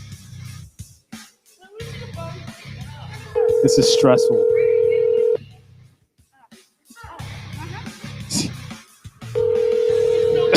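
A telephone ringback tone sounds in two long steady bursts with a pause between, while a person talks before and between the rings.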